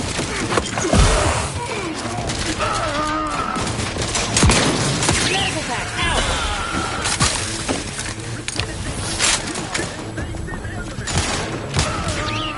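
Sustained gunfire in The Outer Worlds 2, with rapid overlapping shots, breaking impacts and clatter filling the scene while voices talk over the combat.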